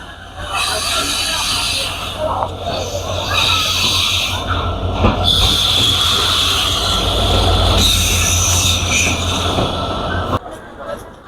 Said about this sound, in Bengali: ট্রেনে মাত্র এসে পৌঁছালো পোড়াদা রেলওয়ে স্টেশনে